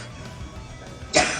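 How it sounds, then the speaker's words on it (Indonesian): A single sharp cough bursts out near the end, preceded by quiet room tone with faint low rumble. "Batuk tidak keren."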